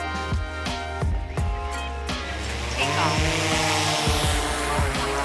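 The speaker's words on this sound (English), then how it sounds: "let the drone come out your hand" A DJI Mavic 4 Pro drone whines as its propellers spin up for a hand launch, the tonal buzz rising and growing louder toward the end while a person talks over it.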